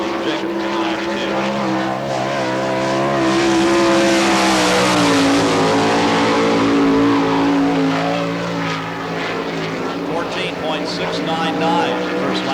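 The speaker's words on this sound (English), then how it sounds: "Dean Jacobs in the 92 sprint car" Dean Jacobs' number 92 sprint car laps a Florida dirt speedway in Barberville, its engine a loud, sustained roar that climbs and falls in pitch through the turns, with an announcer talking over it.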